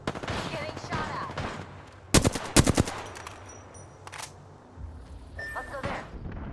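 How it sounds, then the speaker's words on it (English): Bursts of gunfire in a video game, with a rapid cluster of loud shots in the middle and scattered pings and clangs around it, under intermittent talk from players. "Getting shot at."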